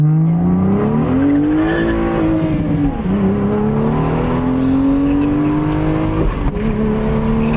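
Toyota Supra with a new downpipe accelerating hard in a pull, its engine note climbing through several gears with quick shifts between, loud and close from inside the car, no talking.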